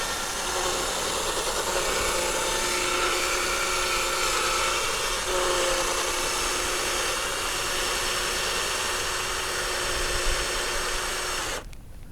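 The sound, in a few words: drill-powered paddle on float tube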